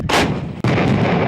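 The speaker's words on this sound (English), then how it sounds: "India began to fire the massive Bofors guns to drive Pakistan out of Kargil" Indian Bofors artillery guns firing during the 1999 Kargil conflict, two heavy booming blasts in quick succession, loud and close, each rolling into a dense rumbling tail.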